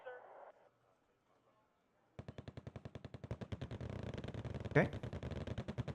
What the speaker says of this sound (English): Got our machine guns firing away